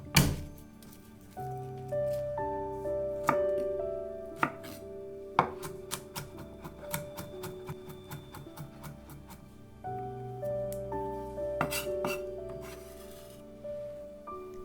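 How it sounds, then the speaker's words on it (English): A knife chops shallots and garlic on a board for a fish dish with three-flavored sauce, with quick rhythmic close taps in bursts over light background music. "Mince 2 shallots. Chop 2 cloves of garlic."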